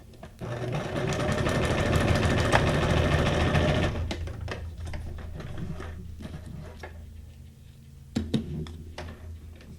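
A sewing machine runs steadily, stitching straight lines on junk journal paper ephemera, a loud whirring hum for about four seconds, then stops, followed by quieter handling clicks and a brief rattle.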